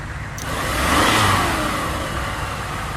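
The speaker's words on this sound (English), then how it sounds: "The traffic doesn't seem to be in any hurry to break gridlock." Stalled gridlocked traffic in the Knee Deep video game, car engines idling and swelling into a revving surge that peaks then settles into a steady mid-pitched rumble, close and continuous with no voices.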